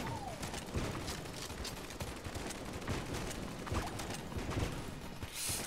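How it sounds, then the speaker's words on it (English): Rapid bursts of big shotgun fire in the Enter the Gungeon video game, loud and dense, mixed with clicking mechanical game effects and no talk. "I'm gonna start off with the big shotgun"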